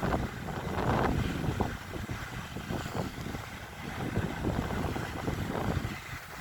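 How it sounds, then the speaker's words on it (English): Strong gusts buffet a phone microphone at the Galway docks beside the bay, a continuous low rumbling roar with uneven bursts, loud and close throughout, no voices. "So it's quite windy today"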